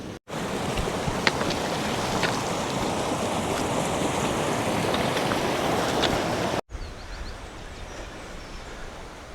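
Rushing waterfall on the climb toward Aisgill Viaduct near Wild Boar Fell in England: a loud, steady, close roar of falling water for most of the stretch, then an abrupt cut to a quieter, thinner rush of water and wind.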